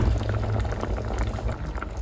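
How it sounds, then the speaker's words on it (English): Malaysian chicken curry bubbling in a pot, a close, continuous thick simmer with dense popping bursts and a low rumbling boil throughout. "Hear this bubbling sound."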